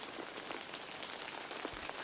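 Soft, steady rain patters on a surface in a dense, even hiss with scattered faint drops, continuing quietly throughout with no talking.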